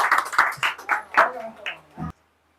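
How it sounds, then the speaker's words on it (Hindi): Hand claps in a quick series of separate sharp bursts, near and moderately loud, after a dance at a birthday vlog gathering, ending in a final thump before silence. "तालियां सच में।"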